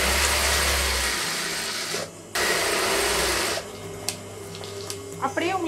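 A sewing machine stitches the collar neck of a chudidhar in a loud, steady whirring run. It stops briefly, then resumes for a while before trailing off into quieter handling noises.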